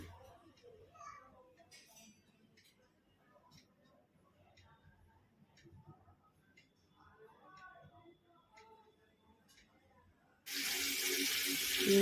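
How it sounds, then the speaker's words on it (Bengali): Water poured into a cooking pot of potato, eggplant and lentil dumpling curry that has been browning with spices bursts in as a sudden loud, steady rush near the end, after a quiet stretch of faint background voices and small kitchen sounds. "জল দিয়ে দেবো কষানো হয়ে গেছে জল দিয়ে দিচ্ছি"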